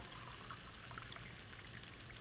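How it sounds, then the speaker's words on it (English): Water poured from cans into a bean-and-sausage style casserole sauce, a faint, steady trickle and splash running throughout. "now I want to add some water. 2 cans, not 3 cans of water, just 2 cans."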